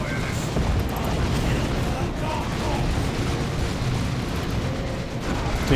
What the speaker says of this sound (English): Grenade volley in.